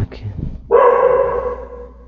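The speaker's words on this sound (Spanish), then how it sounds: "Mi perro empezó a ladrar." A dog barks once up close, its sharp bark tailing into a sustained yelp, right after some muffled speech and background sounds.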